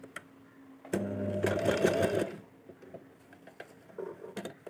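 Sewing machine stitching an invisible zip: one steady mechanical hum with rapid needle clatter lasting about a second and a half, close and fairly quiet, followed by faint handling clicks.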